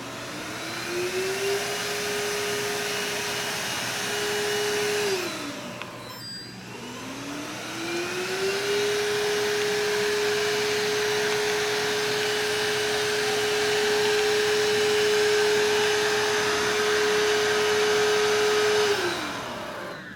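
A Samsung Powerbot robot vacuum runs in normal mode, a loud steady whine that spins up, cuts out briefly, then ramps up again and holds before winding down, with no talking.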